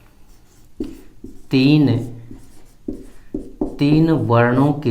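Writing strokes on a board or paper scratch softly beneath a teacher speaking Hindi during a grammar lesson, the voice dominating throughout.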